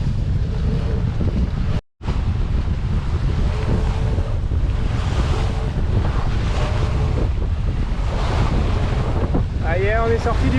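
Strong wind buffets a sailboat beating against the current through the Goulet de Brest, with choppy sea slapping the hull; gusts roar continuously into the microphone, loud and close, with a brief dropout partway through.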